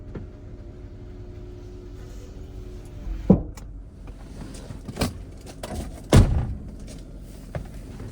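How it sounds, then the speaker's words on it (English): Electric rear window of a 2005 Land Rover Freelander running as a steady motor whine for about three seconds, then stopping with a sharp thunk, followed by a few more close clunks and clicks inside the car. "let's test that rear window"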